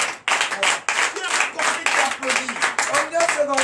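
A church congregation claps during a night service of deliverance and prophecy, bursts of handclaps rising and falling in waves under a preacher's ongoing voice.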